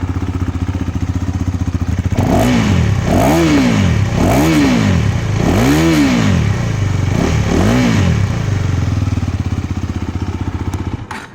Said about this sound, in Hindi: तो एग्जॉस्ट नोट मैं ऑन करता हूँ, यहाँ पे गाड़ी ऑन हो गई मेरी।